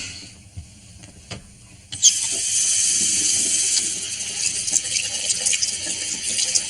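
A tap in a motel room is turned on after a clunk of the handle, and steady hissing running water then pours continuously, close and fairly loud, with no talk.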